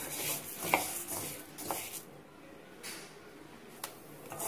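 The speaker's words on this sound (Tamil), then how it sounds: "இப்ப பாருங்க நம்மளுக்கு வெந்தயம் வறுபட்டு, இதை இப்ப நம்ம எடுத்துடலாம். சத்தம் கேக்குது பாத்தீங்களா" Fenugreek seeds roasting in a pan for homemade kuzhambu chili powder, giving soft scraping and stirring rustles with a few faint crackles, quiet and close with no talk.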